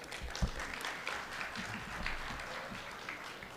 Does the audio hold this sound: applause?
yes